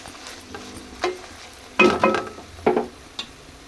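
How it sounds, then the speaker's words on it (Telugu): Beans frying with curry leaves are stirred in a pan: a faint background sizzle broken by a few short, louder scraping stirs in quick bursts, with no voices. "ఇందులో కరివేపాకు వేయాలి ఇది అప్పుడప్పుడు కలుపుకోవాలి మగ్గనివ్వాలి"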